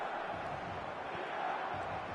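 Steady roar of a packed stadium crowd in an eFootball match, a dense, even wash of cheering noise holding at constant loudness throughout, with no clear voices standing out.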